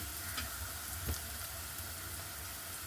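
Sliced onion frying in a pan for anchovy peera, an even close sizzle with faint crackles and a brief stir sound, steady and quiet throughout, no talking.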